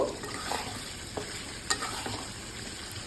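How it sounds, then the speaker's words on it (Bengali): Paneer, potato and pointed gourd pieces get stirred through spiced oil in a pan, with soft scraping and stirring strokes over a faint sizzle at close range. "এবার ভেজে রাখা পনির, আলু, পটল সবই এর মধ্যে দিয়ে দিলাম। দিয়ে সুন্দর করে এটাকে একটু মিক্সিং করে দেব"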